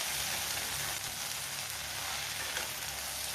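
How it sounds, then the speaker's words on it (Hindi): Okra fried in a pan gives off a steady, dense sizzle that holds close and even for the whole stretch, with no voices over it. "बीच बीच में थोड़ी थोड़ी देर पर इसे चलाते हुए इसे हमें भूनना है।"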